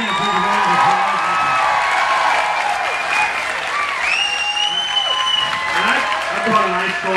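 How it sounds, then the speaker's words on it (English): Audience at a Team Chevy Racing display at Texas Motor Speedway breaks into sustained, loud applause with scattered cheers and whoops, a dense crowd clapping nearby throughout. "Let's give him a big round of applause."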